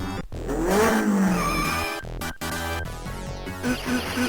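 A motorcycle engine revs and whines in a bootleg arcade fighting video game, with rising and falling engine sweeps cut by abrupt game sound effects and tones, fairly loud and busy.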